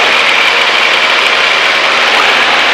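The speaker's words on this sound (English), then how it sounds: "Put your hand on the throttle. Let's throttle back." Cessna 152 light aircraft engine throttled back for slow flight, a loud steady drone with a broad whine filling the cabin, no talking.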